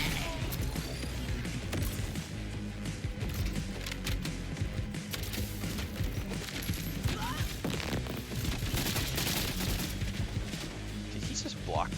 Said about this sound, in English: Why are you shooting at me, guys?